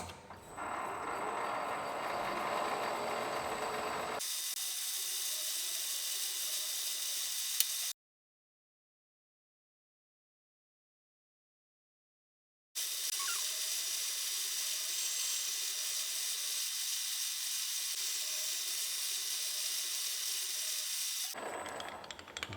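A lathe machines a small part for a Land Rover Discovery 2 ACE suspension system, giving a steady mechanical whir and hum with faint ticks, broken by a silent gap mid-way, with no talking.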